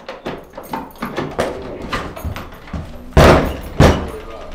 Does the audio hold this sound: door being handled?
yes